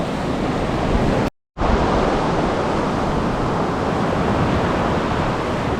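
Sea waves at Playa Cosón in the Dominican Republic roar as a loud, continuous wash of surf, broken once by a brief dropout, with no voices.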